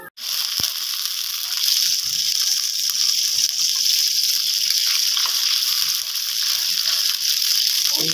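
Bottle gourd fries in hot oil with a steady, loud, bright sizzling hiss that holds nearly unchanged throughout, with a few faint clicks underneath.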